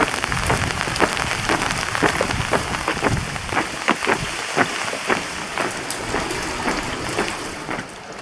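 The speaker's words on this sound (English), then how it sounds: "Proper rain." Heavy rain pours onto a budget tent at a campsite, a dense, steady hiss thick with close individual drop taps throughout, with no talking.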